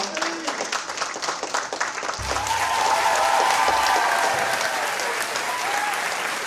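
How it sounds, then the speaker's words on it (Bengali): An audience at the Bangapurush Samman 2024 awards applauds one-legged long-jump athlete Prabir Sarkar. After a couple of seconds the clapping swells into a loud, sustained round of applause that fills the rest of the moment. "একটা জোরে করতালি হয়ে যাক প্রবীরের জন্য"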